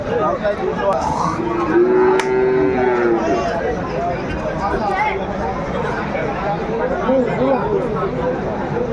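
Cattle moo at a busy rural livestock market where dairy cows and calves are traded, one clear sustained low moo rising above a constant crowd babble and nearby talking.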